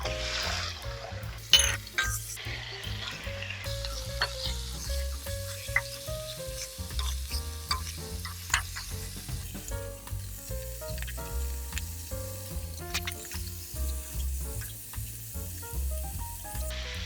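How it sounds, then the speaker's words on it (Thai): Squid and shrimp fry with garlic in a wok, a steady sizzle broken by frequent clatters and scrapes of stirring, close and busy, with no talk. "พอกระเทียมหอมดีแล้วก็ใส่ปลาหมึกกับกุ้งลงไปเลยค่ะ"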